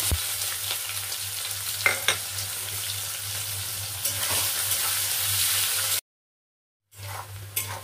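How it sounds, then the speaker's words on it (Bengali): Chopped onions fry in oil with cumin, giving a steady, moderate sizzle with a few stirring scrapes, broken by a brief silent cut before the frying resumes, and no talking. "পেঁয়াজটা আমার ভাজা ভাজা হয়ে এসছে"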